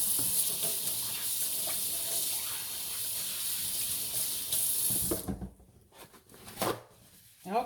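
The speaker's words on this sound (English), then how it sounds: "let me wash my hands here." Kitchen tap running in a steady hiss while hands are washed at a sink, then cut off, leaving brief splashes and handling noises afterward.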